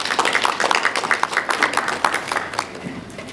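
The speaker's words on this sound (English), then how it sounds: "can we please give her a round of applause?" Audience applause welcoming a speaker at a YMCA launch event, a dense patter of many hands clapping at moderate distance, steady and then thinning out toward the end, with no talk over it.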